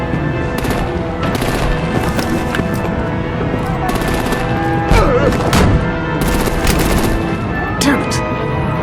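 Artillery and gunfire in Batman: The Enemy Within, loud sustained bursts of automatic fire with heavy booms mixed in, continuous throughout under dramatic effects and occasional voices.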